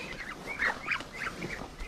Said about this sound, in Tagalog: Huhuli tayo ng bibe.